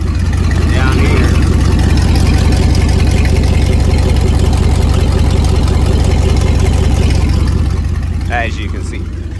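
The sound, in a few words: Dodge Dakota R/T engine running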